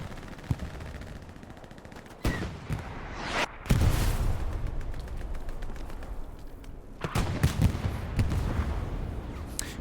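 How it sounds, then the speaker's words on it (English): Gunfire and heavy blasts from a WWII battle in Hell Let Loose, with a Panzer IV tank firing at and destroying an AT gun; several loud booming shots stand out over continuous crackling combat noise. "Panzer IV takes down the AT gun."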